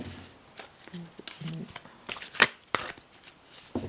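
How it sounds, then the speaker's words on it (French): A deck of playing cards being handled and cut during a card trick, with soft riffles and sharp card snaps at close range, while someone talks over it. "en coupe, je coupe pour vous"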